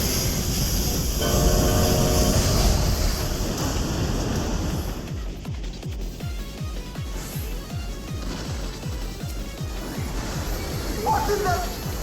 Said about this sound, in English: It's the Doom Train limit break.